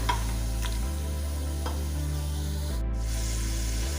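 Tomatoes stirred and sautéed in a pan for dal gosht, a steady close scraping and soft sizzle running continuously with a few brief clicks of the spoon, no voices.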